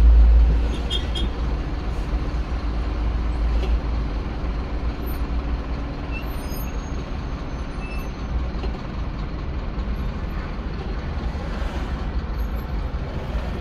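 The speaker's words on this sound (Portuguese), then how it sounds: "O caminhão tá passando em cima ali, a 381." A truck passes on the elevated BR-381 highway in central Ipatinga, a steady low rumble of heavy traffic with a brief louder surge at the start, then continuous road noise with no talk.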